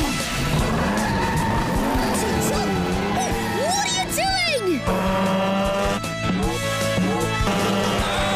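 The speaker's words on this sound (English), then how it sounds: "Maxie's tires come off! That wheel! It's heading straight for us!" Cartoon race car skids at a racetrack as one of its tires comes off, with squealing, sliding tones sweeping up and down over engine hum and background music, while excited voices talk throughout.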